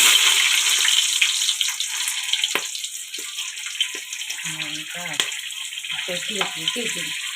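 Green chillies fry in hot oil for a fish curry, a steady bright sizzle and crackle running throughout, with brief clinks and scrapes of a utensil and a few short spoken phrases over it.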